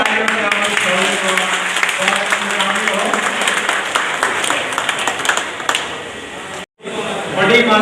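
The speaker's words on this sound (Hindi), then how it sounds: "स्वच्छता के योद्धाओं का जोरदार तालियों से" Loud, dense applause from a ceremony audience honouring sanitation workers in Rewari, Haryana, sustained for several seconds, briefly cutting out near the end before resuming.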